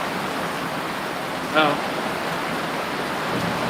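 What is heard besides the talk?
intense rain during a hailstorm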